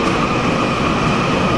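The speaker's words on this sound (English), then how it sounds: "the train is my preferred mode of transportation" Steady rumble of a train interior while riding in Taiwan, heading toward Kaohsiung, with continuous broadband rolling noise and a faint tonal hum, moderately loud and even throughout with no voices.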